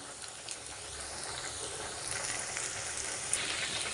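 Prawns sizzling in hot oil with slit green chillies and curry leaves, a steady close crackle and hiss throughout with a few sharper pops, no voices.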